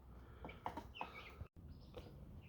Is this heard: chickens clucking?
yes